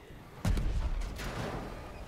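A single gunshot rings out during a clan battle in a video game, a sharp, loud report followed by a rumbling, echoing tail.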